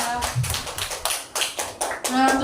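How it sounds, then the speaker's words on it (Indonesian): A school class gives a patterned round of applause to a group after a poetry reading, several short loud bursts of clapping in quick rhythm, with voices mixed in. "Tepuk tangan untuk kelompok 2."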